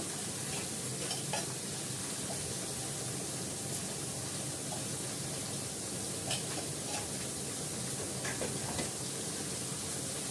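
Bottle gourd shukto is stirred in a pan, a soft continuous sizzle with faint scraping taps of the spoon scattered through, steady and fairly quiet.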